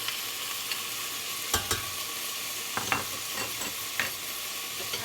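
Onions frying in a pan with ginger garlic paste stirred in, a steady loud sizzle with several scraping strokes of the spoon at irregular intervals.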